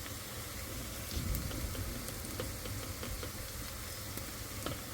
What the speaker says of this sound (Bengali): তো মাছগুলো ভাজে নিচ্ছে